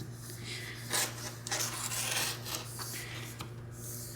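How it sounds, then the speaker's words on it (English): A rotary blade cutting fabric for a shirt, giving a few soft scraping swipes in bursts over a steady background hum, with a sharper knock at the very end. "I'm gonna get my rotary blade"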